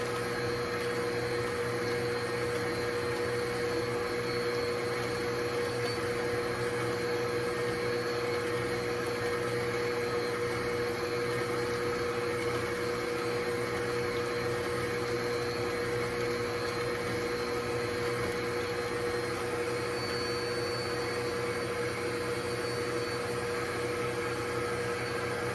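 Electric mixer beating pound cake batter with eggs in a home kitchen, a steady continuous whir with a faint tonal hum, running alone at moderate level throughout.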